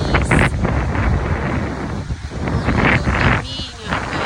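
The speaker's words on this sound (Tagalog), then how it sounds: "Init unta pero grabe ang hangin. Kusog kaayo." Strong gusty wind roars and buffets the microphone outdoors in stormy weather, rising and dipping in loudness across the few seconds, with a person's voice breaking in briefly.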